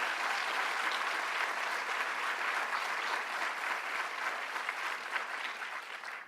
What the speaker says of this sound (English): And Annie and Andrea, let's give them another round of applause.